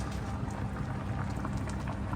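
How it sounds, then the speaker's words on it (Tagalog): Meat simmering in plain water without oil in a cooking pot, giving a steady, close bubbling and gurgling wash that runs without pause, with no voices. "Kumukulo-kulo siya sa tubig na walang mantika."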